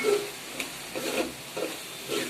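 Spice masala sizzles steadily in hot oil for a fish curry, with soft bursts of stirring recurring every half second or so, close and fairly loud, no voices.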